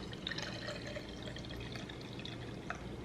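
Water poured into a vase holding cut sunflowers, a steady liquid splashing and gurgling that runs evenly for about three seconds at moderate, close range.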